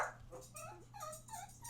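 Dog whimpering and whining in a home, a run of soft high-pitched whines and yips over a low steady hum, fairly faint and continuous.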